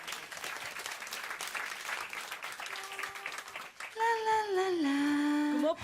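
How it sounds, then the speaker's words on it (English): Audience applause at a public talk, a dense patter of clapping for about four seconds, then giving way to sustained tonal feedback-like hum as the clapping fades. "Once more applause for Okutjes."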